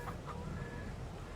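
Chickens in Farming Simulator 22 cluck softly, with two brief clucks near the start over a low farmyard hum in the game.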